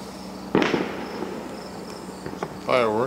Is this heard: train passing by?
no